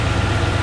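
A car engine idles with a steady, low, close-up rumble, brief and unbroken.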